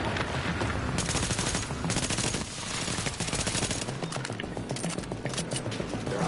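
Gunfire in the video game The Division, dense automatic bursts and rapid shots rattling almost continuously, loud and close, with brief gaps between volleys and no talk over them.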